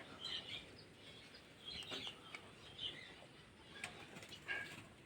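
Pigeons shake and flap their wings after bathing in rain, bursts of fluttering recurring every second or so over a steady outdoor hiss, with faint chirps between.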